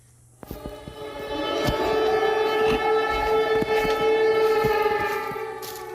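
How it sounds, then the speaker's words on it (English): A sustained wailing air raid siren tone starts after a brief pause and holds steady at high volume, with a few sharp knocks and clatters mixed in, heard in Poland. "the ominous sound of air raid sirens could be heard in neighboring Poland"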